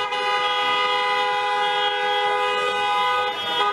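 A car horn in a wedding convoy in Berlin blares as one sustained, loud tone, held without a break and heard nearby with no talk over it.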